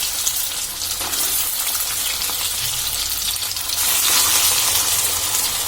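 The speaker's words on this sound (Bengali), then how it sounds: "এবার সয়াবিনগুলো আস্তে আস্তে করে এই তেলের মধ্যে আমি ছেড়ে দেবো" Soybean chunks coated in spice paste drop into hot oil, giving a steady, loud frying sizzle with a gushing, watery hiss that swells near the end, with no talking.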